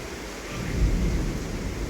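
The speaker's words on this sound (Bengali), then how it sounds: "ওই দেখ মেঘ ডাকছে," Thunder rumbles low and deep for a couple of seconds during a heavy nighttime rainstorm, swelling slightly and then holding over a constant wash of rain.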